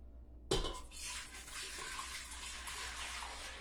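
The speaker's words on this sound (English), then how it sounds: "So fill the inner pot of the deluxe multi-cooker with 7 cups of water." Water poured into the inner pot of a deluxe multi-cooker, a sudden splash and then a steady, continuous pouring rush, fairly quiet and with no talk over it.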